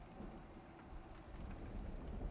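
Steady, hissing rain from a violent storm pours down around an old house in an audio drama, a faint continuous wash with no voices over it.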